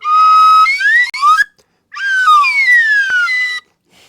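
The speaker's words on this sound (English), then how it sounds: "the infamous slide whistle during the Evel Knievel stunt" A slide whistle from the car stunt scene of The Man with the Golden Gun plays loud, swooping upward pitch slides, a brief break, then a long descending glide, up close with no talk.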